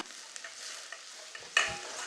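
Soft sizzling of chopped onion, green chilli and curry leaves sautéing in oil, with light stirring clicks and a brief louder sizzle near the end.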